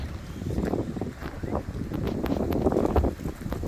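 Gusty wind on a rail trail buffets the microphone with a continuous low rumble that swells and dips throughout.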